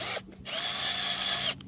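A power drill whines as it bores an injection hole into a tree trunk, running in two bursts separated by a brief pause, close and loud with no talking.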